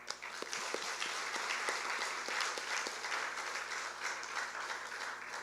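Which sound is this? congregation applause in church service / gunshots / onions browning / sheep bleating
congregation applause in church service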